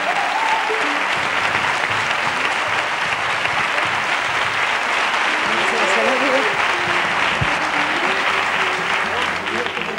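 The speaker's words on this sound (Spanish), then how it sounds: "otro aplauso para Jordana, por favor." Loud, continuous applause from a studio audience on a Spanish copla music show, dense clapping over a faint murmur of voices and some background music.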